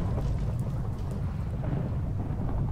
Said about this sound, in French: c'est moi qui déclenche les éclairs ici, ok?